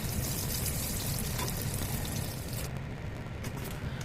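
Curry leaves hit hot tempering oil already holding mustard seeds and cumin, giving a steady, close crackling sizzle that fades slightly near the end.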